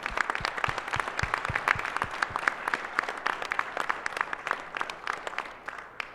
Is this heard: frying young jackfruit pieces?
no